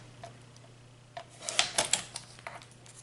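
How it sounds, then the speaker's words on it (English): A paper trimmer slicing a card strip for a handmade greeting card, a short run of quick crisp ticking clicks as the blade slides through, close and fairly quiet. "So I'll just bring my trimmer in, and all I'm going to do is trim off a little bit off each side."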